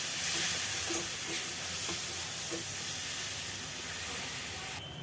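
Ground spices (coriander, red chili and turmeric powder) frying into a masala in a pan give a steady, close sizzle and hiss with light stirring scrapes, fairly even throughout and with no talking.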